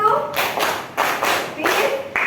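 A class of students claps in a rhythmic routine, several sharp, loud group claps in a pattern, with voices chanting along between them.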